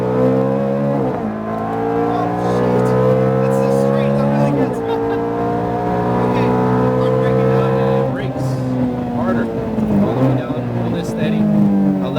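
A Ferrari F430 V8 on a race track, its engine loud and close as it revs and holds steady tones through several gear changes, with an instructor talking over it throughout.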